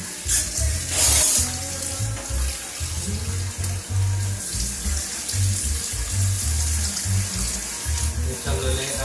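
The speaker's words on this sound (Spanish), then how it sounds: "Echándole agua al arroz." Water pours steadily into a pot of white rice being cooked on the stove, a continuous splashing stream heard up close from start to finish, with faint kitchen sizzling underneath.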